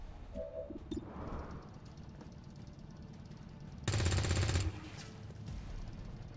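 Gunfire in the video game XCOM 2 War of the Chosen: a short burst of rapid automatic fire cracks out loudly for under a second over a steady low game ambience, with no talk.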